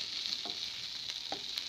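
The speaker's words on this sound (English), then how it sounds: "Then I just continued stir frying it." Steady hissing sizzle of broccoli stir-frying in a hot pan, with a few soft scraping stirs.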